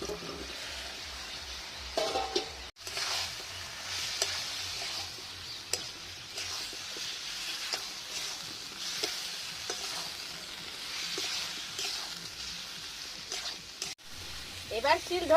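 Mutton and fried potatoes stir and sizzle in a pan for kosha mangsho, a soft continuous fry with scattered scrapes of a spoon, faint and close, with a few louder knocks.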